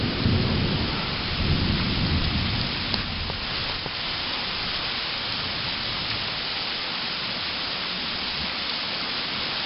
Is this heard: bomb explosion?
no